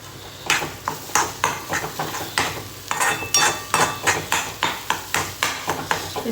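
A spoon mixes and breaks up egg bhurji in a pan, making a quick run of rhythmic metallic clinks and scrapes, close and fairly crisp.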